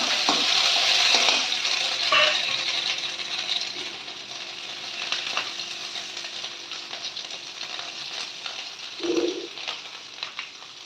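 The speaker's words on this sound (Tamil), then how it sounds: "அடுப்பை சிம்ல வச்சுக்கலாம் பெருங்காயத்தூள் ஒரு பச்சை மிளகா சின்ன துண்டு இஞ்சி நசுக்கி வச்சிருக்கிறேன் இதையும் போட்டுக்கலாம்" Asafoetida, green chili and crushed ginger hitting hot oil in a pan on low flame, a loud sizzle that settles into steady frying with occasional stirring scrapes and clinks.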